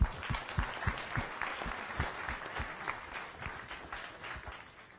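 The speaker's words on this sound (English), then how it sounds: "Let's give him a round of applause." Applause from the audience at a science cafe talk on glowing insects, moderately quiet crowd clapping with a few strong rhythmic claps standing out near the start and gradually fading.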